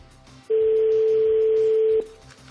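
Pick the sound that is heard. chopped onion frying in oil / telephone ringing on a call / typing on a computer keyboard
telephone ringing on a call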